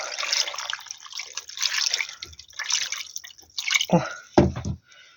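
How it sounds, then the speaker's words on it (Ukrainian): Marinade is poured over red fish backbones in a tray, giving a close, uneven splashing trickle in short bursts that ends with a couple of heavier drips and splats. "І заливаю маринадом."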